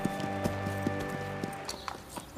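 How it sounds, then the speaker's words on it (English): Hooves of a Spanish horse performing dressage clip-clop in a steady, crisp rhythm of sharp strikes over a sustained musical drone, several beats in quick succession. "Few can perform this exacting dance with the power and precision of the Spanish horse."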